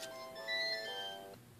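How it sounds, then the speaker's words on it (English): A phone ringtone plays a short, bright electronic melody of clear sustained tones, fairly quiet and alone, lasting under two seconds. "sorry about the phone there"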